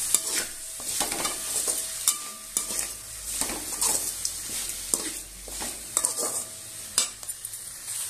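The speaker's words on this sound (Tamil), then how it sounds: "நான் தேங்காய் சேர்த்துருக்குறேன். நல்லா வதக்கிக்கலாம்" Grated coconut, mint and coriander leaves sautéing in a pan for a chutney, with a constant close sizzle broken by repeated spatula scrapes and clinks against the metal.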